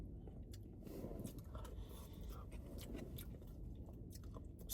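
Crunchy, wet chewing of fresh bean sprouts from a Chinese takeout meal, close and quiet, with steady bites and mouth sounds and no talking.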